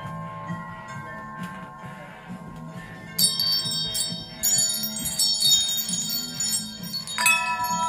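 Wind chimes at a boardwalk kite store in Ocean City, Maryland, ring in bright, sustained metallic tones that build from about three seconds in, over a low background murmur of shoppers and ambience.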